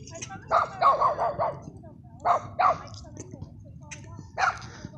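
Several dogs bark at a large desert dog park, in short bursts of two to four barks that are fairly close and loud, separated by pauses over a low outdoor background.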